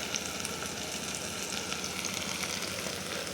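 Vegetables fry in oil for a vegetable biryani, producing a dense, even sizzle with crackling pops and soft stirring, steady and close, with no talking.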